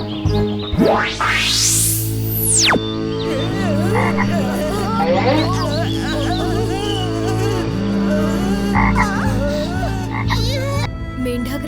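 Frogs croak repeatedly in a dense chorus, loud and close, over a steady background hum, with a sweeping whistle-like tone rising and falling early on.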